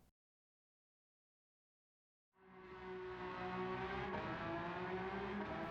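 A Ferrari Testarossa '91 flat-twelve engine from Gran Turismo 7 drifting at Suzuka, starting after a couple of seconds of silence and then holding a steady, sustained high-revving drone to the end.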